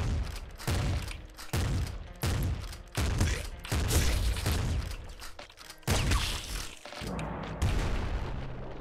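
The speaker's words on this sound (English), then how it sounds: "Triple machine gun." Triple machine gun in Nuclear Throne firing in heavy, punchy bursts, roughly one every second, loud and close with booming low-end thumps, no talking over it.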